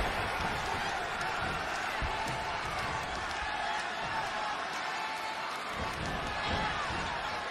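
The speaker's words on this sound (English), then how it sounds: "if you want to know the strength of WWE here in Japan, just listen to this Tokyo crowd." A Tokyo arena crowd in the WWE 2K20 wrestling game keeps up a dense, steady roar of cheering throughout, with no clear breaks.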